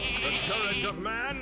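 A sheep in the card game Hearthstone gives a short bleat under a man's close, running commentary, and his voice stays on top of the bleat.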